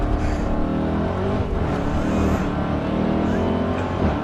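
A 2017 Dodge Charger Hellcat pulls hard uphill in second gear, its engine roaring loud and close as a continuous, rising drone from inside the car.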